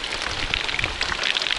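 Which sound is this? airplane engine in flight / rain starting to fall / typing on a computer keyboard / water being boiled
rain starting to fall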